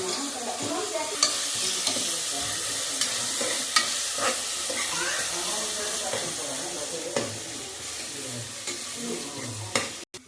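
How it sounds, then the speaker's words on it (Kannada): Onions frying in oil with fennel seeds until golden, a continuous near sizzle with scattered scraping stirs and clinks, ending in an abrupt cutoff; no speech. "ಇವಾಗ ಸ್ವಲ್ಪ ಈರುಳ್ಳಿ ಗೋಲ್ಡನ್ ಬಣ್ಣ ಬರೋವರೆಗೂ ಹುರ್ಕೋಬೇಕು"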